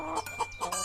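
A hen in an animated story gives a quick run of three or four short clucks, close and clear, over a faint low background.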